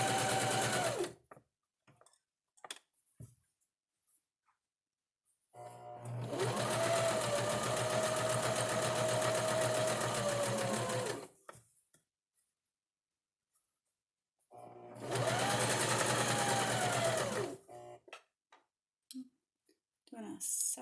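A home sewing machine stitches knit fabric in two long bursts of fast, whirring, rhythmic clatter separated by quiet pauses, with brief handling noises and a few short runs between.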